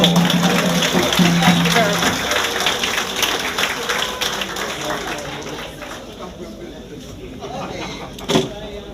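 Mourners clap at a memorial service after singing, a dense ragged patter of many hands that is loud at first and fades over several seconds, with voices mixed in and a final sharp knock near the end.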